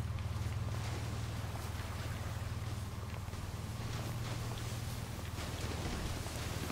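A steady low boat engine drone in GTA Online hums continuously with a broad wash of water and wind noise, running at constant speed.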